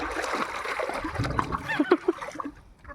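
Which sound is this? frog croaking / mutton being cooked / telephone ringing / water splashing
water splashing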